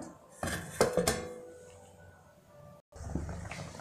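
A lid lifted off a pot of simmering khoya paneer gravy gives a couple of sharp metallic clanks and clinks, then a quieter bubbling stretch, a brief gap, and more soft kitchen clatter.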